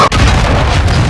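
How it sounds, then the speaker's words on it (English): A cruise missile explosion in a video game lands as a loud, close boom after a brief sharp dropout, then trails off into a sustained heavy rumbling roar. "Friendly cruise missile deployed."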